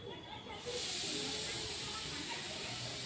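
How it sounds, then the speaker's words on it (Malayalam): A pressure cooker whistle releases steam in a loud, continuous hiss that bursts in after a brief quieter moment and holds steady, heard from a balcony some distance from the kitchen. "കുക്കറിൻ്റെ സൗണ്ട്, വിസിലിൻ്റെ സൗണ്ട് കേൾക്കാൻ പറ്റുന്നുണ്ടെന്ന് തോന്നുന്നു."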